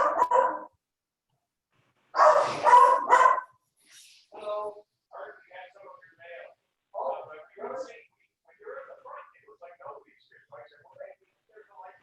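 A dog barking during a virtual meeting: a couple of sharp barks, then a loud burst of rapid barking, followed by scattered quieter yips and whines, with a voice talking intermittently.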